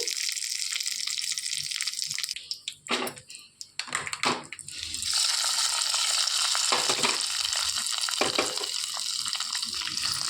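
Chana dal coconut curry gets stirred in a pan, a spoon scraping and mixing through the thick mixture amid steady hissing sizzle, with a few louder clattering strokes partway through.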